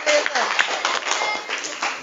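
Students in an Indonesian classroom clap together in a brief, dense burst of applause, close and fairly loud, lasting about two seconds.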